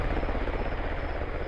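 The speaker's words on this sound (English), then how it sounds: "And we just saw a helicopter insert." A military helicopter inserting troops in the video game Squad thunders with a heavy, continuous rotor chop, loud and close, filling the short moment with no voices.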